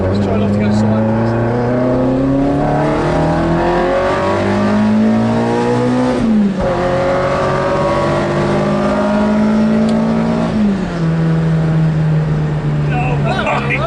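A Cosworth-powered Ford Escort RS2000 race car with carburettors revs hard from inside the cabin, engine pitch climbing through gears and dropping at shifts, loud and continuous under excited speech.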